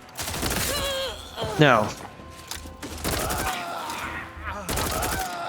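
Gunfire bursts in the video game The Outer Worlds 2 come in short rapid volleys under game character voices and a brief groan, fairly close and moderately loud.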